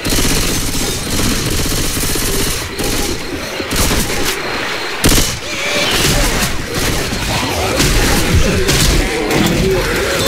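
Rapid explosive-round gunfire and booming impacts in Left 4 Dead 2, a loud, dense barrage of shots and blasts close by that continues almost without a break, with voices under the noise.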